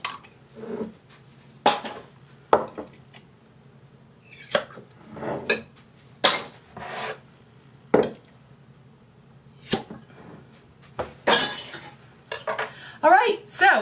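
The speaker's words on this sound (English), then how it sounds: "So we're going to go ahead and open all of our jars." Sealed home-canned jars of beans are opened one after another. Close, irregular metallic clinks, lid pops and glassy clatter repeat across the stretch, with quiet pauses between them.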